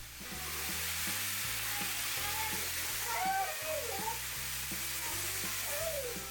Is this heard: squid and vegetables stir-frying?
yes